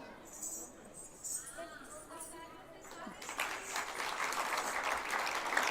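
Audience applause welcoming a dance performance by Happiness Nritya class students at a national Jeevan Vidya gathering, starting faint under a spoken announcement and swelling into loud, sustained clapping through the second half.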